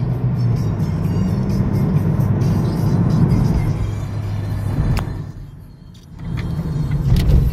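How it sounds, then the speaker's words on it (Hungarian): Opel Astra GTC engine humming steadily from inside the cabin while driving in second gear, a smooth low drone that dips briefly before building again, with no one talking. "nagyon szépen duruzsol a moci"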